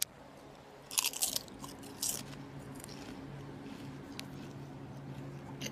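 Ruffles All Dressed potato chips crunch close up: two loud, crisp bites about a second apart, then quieter chewing crackles fading to faint background.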